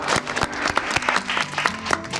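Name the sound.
applause welcoming a new colleague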